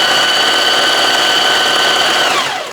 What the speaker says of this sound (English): we're going to stitch along this edge to hold it in place with another triple zigzag